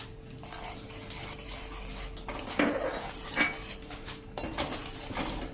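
A spoon stirs a jamun mixture with roasted cumin powder and lemon juice in a pan over a medium gas flame, giving soft metallic scrapes and clinks over a low hum.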